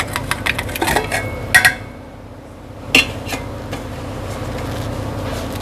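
Mutton pieces dropping into a handi cooking pot, a few metallic clinks and knocks of meat and pot, loudest in two close bursts, then a steady low kitchen background with no talk.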